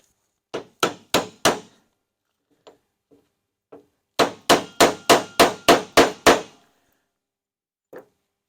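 Sharp hammer blows on a bearing race installer driving a wheel bearing grease seal into place: a quick group of four strikes, a few light taps, then a steady run of eight even blows and one last tap, close and loud with no voice.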